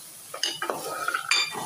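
Carrots stir-fried in a pan for a potato, fenugreek and carrot dish, with a few scraping clinks of a utensil against the pan over a soft sizzle, close and alone.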